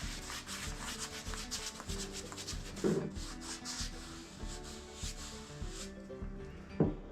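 A paintbrush drags across a wooden workbench top in steady, soft rubbing strokes, close and quiet, with faint tones underneath.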